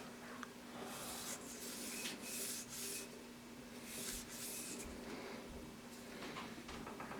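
Sandpaper rubs steadily over a South Bend lathe ID tag during restoration, a continuous close scratchy hiss with rhythmic strokes and a faint steady hum beneath.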